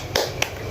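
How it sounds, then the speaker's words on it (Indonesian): Two quick, sharp hand claps in a row from a rhythmic spirit-clapping chant, crisp and close, with nothing else around them. "mari kita tepuk semangat bareng-bareng"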